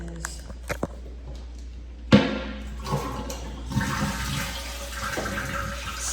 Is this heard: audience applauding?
no